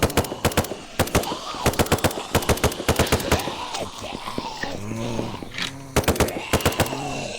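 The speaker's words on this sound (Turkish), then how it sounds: "Şimdi bu zombileri de öldürelim" Rapid bursts of automatic gunfire as zombies are shot in the indie zombie game One Way To Life, loud repeated volleys with short pauses between them and no talking.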